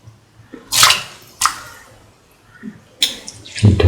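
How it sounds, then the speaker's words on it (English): Soaked and washed rice is poured into boiling water while cooking lemon chickpea rice, making a few short, splashy pours with quiet gaps between them. "Now put in the soaked and washed rice"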